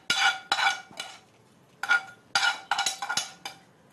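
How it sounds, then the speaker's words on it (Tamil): A spoon scraping and clinking against a pot while fried cashews and seeds in ghee are stirred into carrot payasam, in short repeated strokes with brief pauses, close and fairly quiet. "அது எல்லாத்தையுமே வந்து பாயசத்தில் வந்து மிக்ஸ் பண்ணுறாங்க"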